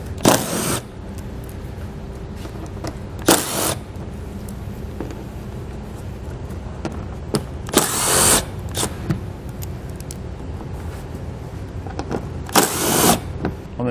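A power tool with an 8 mm socket removes bolts from the driver's side quarter panel of a 2020 Chrysler Pacifica, with several short whirring bursts spaced apart over a steady background hum.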